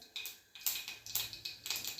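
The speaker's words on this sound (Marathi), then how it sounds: "आणि मोहरी आपली तडतडली आहे" Mustard seeds spluttering in hot oil, a quick irregular run of sharp crackling pops, close and fairly quiet, with no talk.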